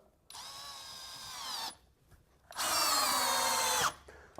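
A SKIL compact drill driver driving a 3.5 inch deck screw, heard in two close bursts of high, straining motor whine, the second louder and longer, separated by a short pause.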